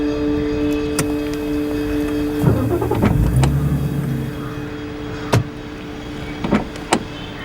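Car starting off and pulling away, a low engine rumble swelling then fading, with a few sharp clicks and knocks scattered across the stretch and no talk.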